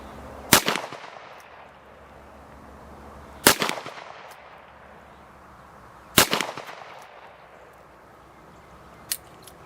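A Taurus 605 .357 snub-nose revolver fires hollow-point rounds at clay targets, three sharp, loud shots spaced a few seconds apart, each trailing off into echo, followed by a faint tap near the end.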